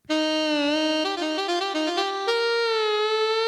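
A Casio WK-6600 keyboard plays a reedy, saxophone-like melody in a Thai Isan style, the notes sliding and wavering in pitch from the bend wheel, loud and close with no talking.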